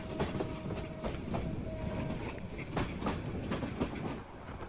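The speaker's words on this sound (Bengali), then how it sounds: "ঠিক 12টা 10 বাজতেই ট্রেনটা ছেড়ে দিল" A passenger train pulling out of a station at night, wheels rolling over the rails in a continuous rumble with rhythmic clacks at the joints and a faint thin squeal, heard from on board.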